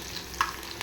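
Chicken pieces fry in a pan with a steady sizzle while a utensil stirs them, one brief scrape standing out in a short, close burst.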